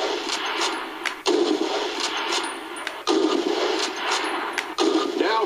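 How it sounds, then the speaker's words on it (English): Springfield bolt-action rifle fired in a Call of Duty training range, three sharp shots spaced a couple of seconds apart, each with a short echoing tail over steady ambient game noise. "Turn to the left, move to the fence, and fire 2 rounds at your target."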